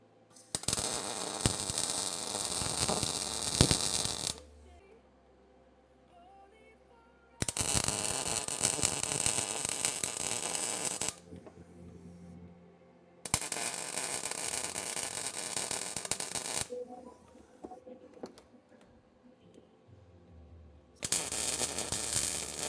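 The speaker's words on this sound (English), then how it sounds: "now I'm going to take that back out and weld it all up" A Jeep TJ Wrangler steering shaft being welded, with bursts of harsh crackling, hissing arc noise lasting several seconds each and separated by quieter pauses with low hum, no talking.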